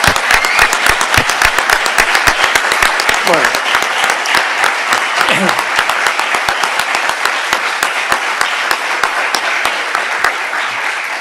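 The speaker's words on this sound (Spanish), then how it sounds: "quiero un aplauso para ellos" An audience at an academic talk on scientific publications in education breaks into loud, sustained applause of crisp, closely spaced claps, with one brief spoken word partway through.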